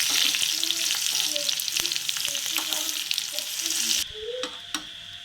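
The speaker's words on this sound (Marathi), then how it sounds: "तडका मिरच्या आपण फ्राय करून घेऊ तेलामध्ये पहिल्यांदा" Dried chillies frying in hot oil for a dal tadka give a loud, steady sizzle with spoon stirring and clicks, which drops to a quieter crackle near the end; no speech.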